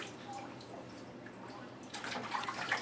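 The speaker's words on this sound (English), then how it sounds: "And then just rinse it out." Water poured over a baby's hair to rinse out shampoo during a first bath, a soft trickling that swells into a louder splashing stream near the end.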